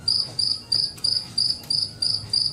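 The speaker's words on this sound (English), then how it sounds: "Crickets. He's rubbing his legs together." Crickets chirp by rubbing their legs together in a steady train of short, bright pulses, about eight evenly spaced bursts, close and clear over a low background rumble.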